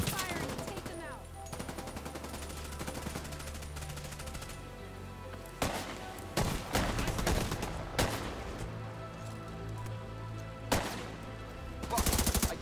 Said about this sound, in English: Keep firing and take them out!